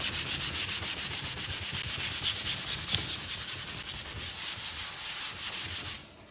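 Sandpaper rubbed hard against a wooden farmhouse sign, a continuous rhythmic scratchy rasp with regular back-and-forth strokes, loud and close, fading briefly at the end.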